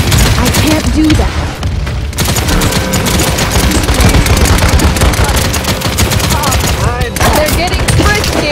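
Dense enemy gunfire in the online game Paladins: loud, continuous rapid shots and bursts overlapping one another, with no letup.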